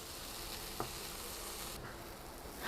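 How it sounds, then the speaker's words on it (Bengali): Chopped potatoes fry quietly in a pan, making a soft, steady sizzle with a small clink partway through and a louder stirring scrape at the very end. "আলুটাকে আমি ভাজা ভাজা করে নিব।"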